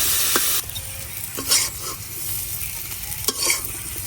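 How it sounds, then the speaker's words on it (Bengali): Food frying in oil in a pan with salt and turmeric, with no potato or onion, in a village kitchen: a steady sizzle runs under several sharp scrapes and taps of stirring. "এভাবে শুধু একটু লবণ আর হলুদ দিয়া তেলের মধ্যে ভাজে নিলাম।"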